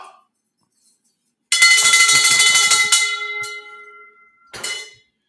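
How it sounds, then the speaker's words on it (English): A handbell is rung close and loud in a bright jangling burst of about a second and a half that rings out and decays, then a short final strike near the end. "Let's ring this bell."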